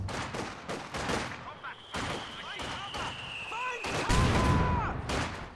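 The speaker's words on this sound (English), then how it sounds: "The 222 of course has the autocannon as well firing, so you don't really notice when the machine gun stops firing quite so much" Scout car autocannon and machine gun fire in Company of Heroes 2, with sharp repeated bursts cracking amid other battle noise and whistling shells, all under a commentator's voice.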